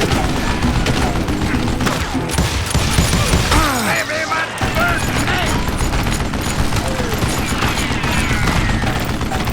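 Gunfire from the video game Call of Juarez Gunslinger, dense loud bursts of shots and booms with rapid volleys throughout, mixed with shouting voices and game effects.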